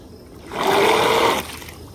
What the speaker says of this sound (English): just place him in the pool and let him sink to the bottom